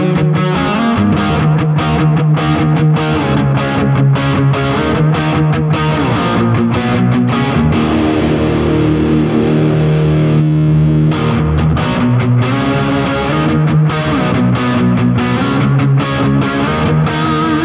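An electric guitar runs through the heavy distorted channel of a Boss GT-1000, playing a loud, saturated riff of chugging low chords and sustained notes, with dense continuous distortion throughout and no talking.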